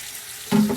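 Tap water starts running into an air fryer basket with soap in it, a sudden close splash and gush in the last third after near silence.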